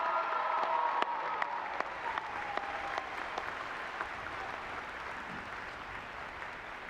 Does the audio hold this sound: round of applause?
yes